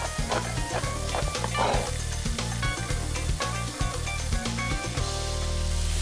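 Garlic cloves and fresh rosemary sizzle steadily in a hot pan, a continuous close frying hiss with small crackles running through the whole stretch, layered over a low background hum.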